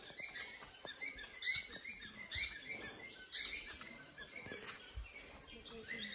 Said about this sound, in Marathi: वेगवेगळ्या प्रकारचे इकडं पक्षी आहे